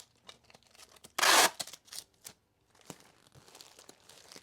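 Tape ripping from a roll to seal a plastic mailer bag holding clothing for shipping, one loud tearing burst followed by soft crinkles and rubbing of the bag, close and quiet otherwise.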